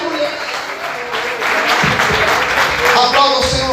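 Church congregation applauding during a sermon, a loud, dense, continuous wash of clapping that grows fuller partway through, with some voices mixed in.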